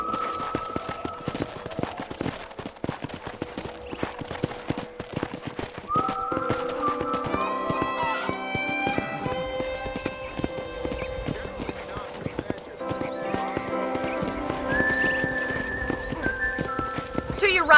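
Horse hooves clip-clop steadily at a ride in the Red Dead Redemption game on a ranch, with a background music score, while people talk over it.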